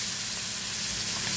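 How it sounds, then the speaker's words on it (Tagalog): Oil and butter sizzle and hiss steadily in a hot pan as chicken pan-fries, a dense crackling sizzle close up with no talking. "I-pan fry lang po natin ng konti yung manok."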